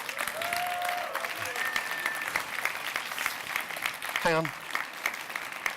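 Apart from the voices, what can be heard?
audience applause at awards gala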